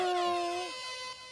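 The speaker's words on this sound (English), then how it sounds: "You mean air horns?" A single loud air horn blast with a steady, brassy tone that holds for well under a second, then drops in pitch and fades away.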